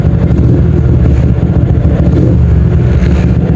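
A 2007 OJMX motorcycle idles with its exhaust set to hyper band mode, a steady, loud, low rumble held close to the microphone with no voices.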